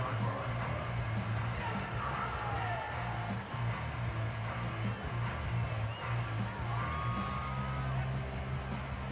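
A stadium crowd cheers in an American football video game as a steady, dense roar of whoops and yells that holds at an even level throughout, with commentary talk running underneath.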